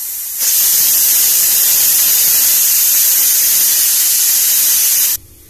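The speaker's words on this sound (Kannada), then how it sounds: "ಈಗ 2 ಕುಕ್ಕರ್ ಕೂಗಿದೆ," A pressure cooker in a home kitchen vents steam in one loud, continuous hissing whistle lasting about five seconds, close up and steady, then cuts off abruptly.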